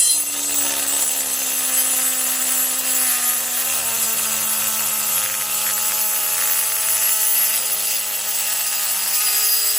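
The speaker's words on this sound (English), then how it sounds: "the Dremel was not really working like it was, but it would take forever" Dremel rotary tool cutting into car suspension parts on an S15 build, giving a steady high whine with a faintly shifting pitch that runs for about ten seconds, close and without talk.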